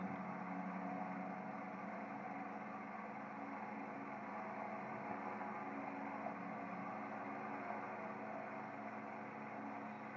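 Inside the cockpit of a Eurofox 220 ultralight in descent, the engine holds a steady, even droning hum at low power, continuous and unbroken for the whole stretch.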